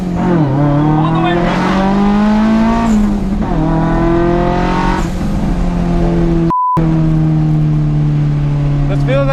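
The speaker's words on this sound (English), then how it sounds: "Just hold on and rev it out." Loud car engine revving hard through the gears with the turbo boost turned down, pitch climbing and dropping at each shift across several pulls, with a brief gap near the end and people talking over it.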